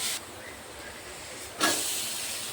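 Ground cumin, salt, turmeric and Kashmiri chilli powder fry in a pan with a steady hissing sizzle that flares louder twice, close and fairly even throughout.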